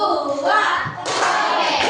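Students in an Indonesian classroom clap a short rhythmic pattern, a dense burst of hand claps that starts partway through and swells to fill the rest, close and loud with children's voices mixed in.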